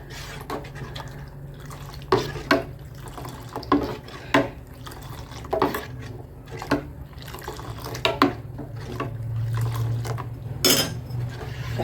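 A spoon scrapes and knocks against a pot while black urad dal porridge is stirred over medium-low heat, giving irregular metallic clinks over a soft, bubbling background.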